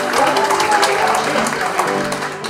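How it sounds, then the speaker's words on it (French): Audience applauding at a poetry evening in Montreal, a steady wash of many hands clapping together, fairly loud and continuous throughout. "On veut vous entendre applaudir en même temps pour passer une agréable soirée."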